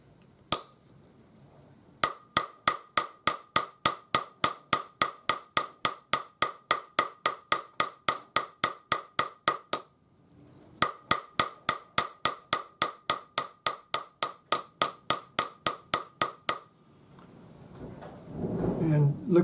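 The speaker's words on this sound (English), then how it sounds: "I have a textured hammer made by Frets" A textured hammer strikes a balled wire ring on a steel bench block held on a lap: a steady run of bright, ringing metallic taps about three per second, a short pause, then more taps before rustling handling noise.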